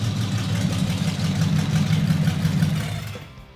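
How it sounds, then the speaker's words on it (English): Custom car engine with only part of its exhaust fitted, idling with a deep, steady rumble that holds loud and continuous before tapering off at the end. "That's the reason I chose this engine from the start, because of the sound."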